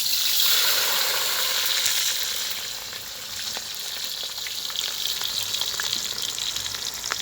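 Onions hiss and crackle in hot oil in a village kitchen pan, a dense, steady sizzle close by that dips briefly midway, with faint clicks of stirring and no talk.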